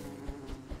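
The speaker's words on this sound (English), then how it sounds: "There's bees over here." Bees in the Don't Starve video game hum in a low, steady buzz, with short pulsing swells, briefly and at moderate level.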